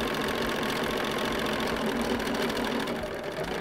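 A sewing machine stitches through a quilt in one steady, fast, even run of needle chatter, close and continuous with no talking.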